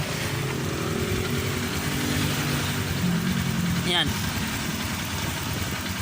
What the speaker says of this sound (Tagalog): parang pangit parang palyado yung motor mo